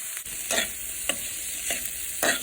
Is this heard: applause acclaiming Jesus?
no